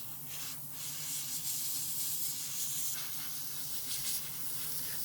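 Airbrush or spray can laying a second primer coat on the interior tub of a Hasegawa Lancia 037 rally scale model, a steady close hiss running throughout with slight surges and no talk.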